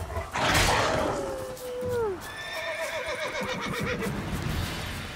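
A horse in the video game Witcher 3 lets out a loud descending whinny, followed by a shorter snorting neigh and fainter hoof clops, with soft talk and ambient game noise underneath.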